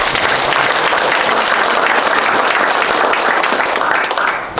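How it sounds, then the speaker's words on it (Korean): Loud, dense applause fills a hall at a commemorative church service for the founding anniversary of Gaya, a steady roar of many clapping hands close by that fades slightly at the very end. "우리 윤석열 총장님 다시 한번 힘찬 박수 하겠습니다"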